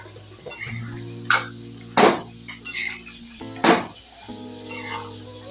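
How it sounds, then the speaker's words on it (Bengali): Shukto vegetables with milk stirred in a pot, a series of distinct metallic clanks and scrapes of the spoon against the pot, close, over a soft background hum. "দুধ দিয়ে এবার এটা ভালো করে একটু নাড়াচাড়া করে নিতে হবে"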